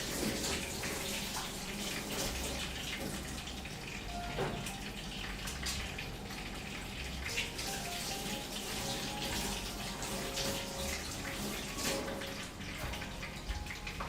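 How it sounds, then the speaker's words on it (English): Hands are washed under a kitchen tap, a continuous close hiss of running water splashing into the sink with small shifts as the hands move through the stream, and no speech. "I gotta wash my hands real quick"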